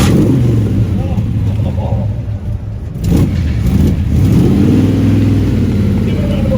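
A car pulls away at a classic car event, its engine revving and then fading as it moves off, while people talk loudly close by over the engine note.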